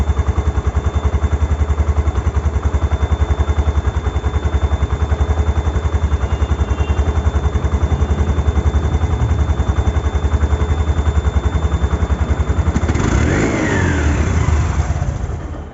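A second-hand motorcycle with a showroom-condition engine idles loudly and close in a fast, even putter, then is revved once near the end before settling back.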